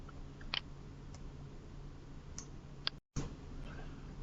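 Computer mouse clicks during accounting software setup, a few sharp isolated clicks spread out over a quiet background hum, close and fairly faint.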